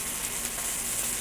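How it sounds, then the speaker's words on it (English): Beef searing in a hot pan for beef stroganoff with wild mushrooms, giving a steady, close sizzle that holds at an even level throughout without pauses or voices. "Now here we're just going for a sear."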